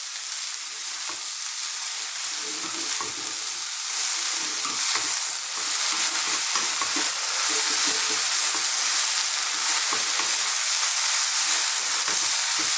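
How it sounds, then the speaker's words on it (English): Chinese cabbage and ginger stir-fried in a wok, a loud, steady sizzle and hiss running throughout with light scraping and tossing noises scattered over it, up close and with no voices. "simply stir fry this for around another 2 minutes"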